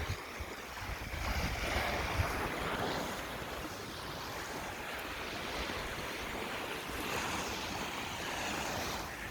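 Calm ocean waves wash steadily on San Juan Beach in Palompon, Leyte, a soft continuous surf with light wind noise on the microphone and no voices.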